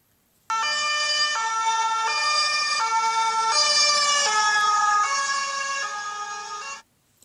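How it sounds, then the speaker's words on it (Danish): Ambulance siren passing by, a loud two-tone wail alternating steadily that rises, swells as it nears, then drops slightly in pitch and cuts off abruptly, heard alone. "Hvis du hører lyden af en ambulance, der bevæger sig hen mod dig"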